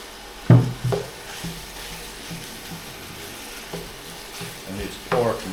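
Pork meat, about 600 grams, is stir-fried in a pan for Thai pad krapow, a soft steady sizzle punctuated by a few sharp scraping stirs and clatters, close and fairly quiet, with no talk.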